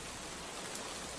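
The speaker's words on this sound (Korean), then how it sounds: "여기 레인을 들어가 봅니다. 빗소리도 종류가 많아요." Rain sound effect from a free audio library, a steady even hiss of rainfall with soft patter, alone and continuous.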